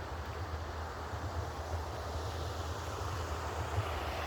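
Steady, full-bodied rushing of water pouring down from mountain waterfalls near a Korean village, continuous and broad with no breaks and no voices.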